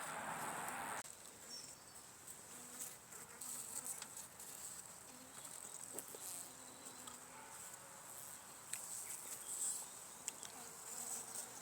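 Honey bees clustered in a hive produce a faint, continuous buzzing hum, with soft rustles and small knocks nearby.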